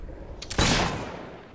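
A gunshot in Fable 3 during a fight against bandits: a single loud, sharp crack with a short rattling lead-in and a decaying tail, with no talking.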